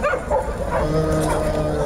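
A Yakutian Laika at a dog show gives short, close yips and whimpering barks in quick succession, with a person speaking in the background.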